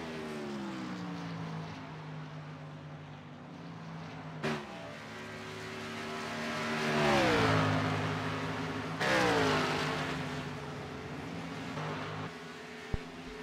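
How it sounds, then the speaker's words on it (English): A race car at Kentucky in the Redlight Racing Series passes the start-finish line with a steady, droning engine note that rises and swells as it nears, then bends down as it passes, heard alone without talk. "Dean Heck in the 12 car, crossing the start finish line"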